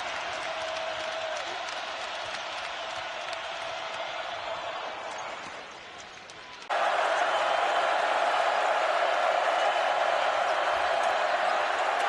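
A basketball crowd at a college game cheers on its feet, a loud sustained roar that dips briefly then surges back even louder, continuous through the whole stretch.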